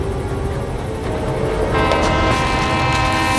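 A moving train in a film scene, heard as a loud continuous rumbling roar with a brighter rush of track noise rising partway through, with no talking.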